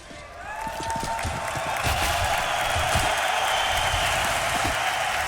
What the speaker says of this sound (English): He wants to hear the crowd get loud for NIP.